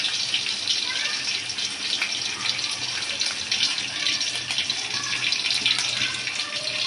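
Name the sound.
mustard seeds and cumin sizzling in hot oil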